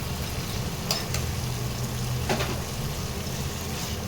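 Coconut paste frying in oil with fish in a pan gives a steady, close sizzle, with a couple of brief clinks of a spoon stirring partway through.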